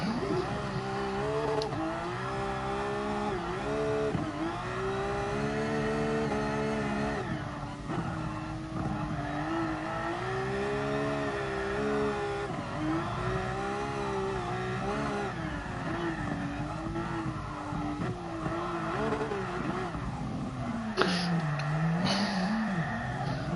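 Race car engine in GT Sport drifting on the Nordschleife, revving hard and continuously with pitch swinging through gear changes, a loud sustained roar with brief tire squeal near the end.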